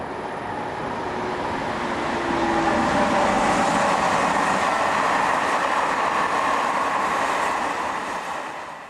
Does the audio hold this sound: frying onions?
no